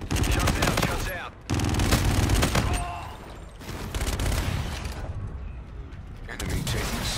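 In Call of Duty: Infinite Warfare multiplayer, an aircraft gun run sends loud, dense strafing fire in long rapid bursts with short breaks, mixed with booms and mechanical battle noise.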